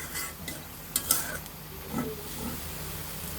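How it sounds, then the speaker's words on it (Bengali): Sweet potato leaves are tossed and stirred in a pan with no water added, giving soft scraping and a low sizzle, plus a couple of sharp utensil clinks near the start. "শাকটা এখন উল্টিয়ে পাল্টিয়ে নেব"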